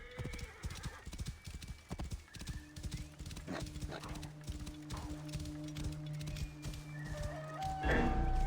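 A horse in the video game Assassin's Creed Origins gallops in a rapid, clear clip-clop rhythm, with hoofbeats continuing throughout and a whinny near the end.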